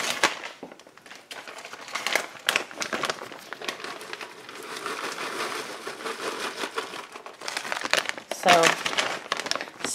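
A plastic bag of shredded cheese crinkles and rustles steadily up close while being handled for homemade macaroni and cheese, with irregular crackles and sharper crunches near the end.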